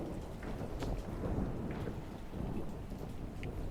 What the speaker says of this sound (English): Oh, it is raining.